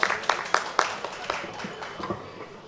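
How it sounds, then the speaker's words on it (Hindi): Applause from a mushaira audience for a poet, a dense patter of clapping with a few sharper claps standing out, fairly loud at first and thinning slightly toward the end. "तालियां दोस्तों"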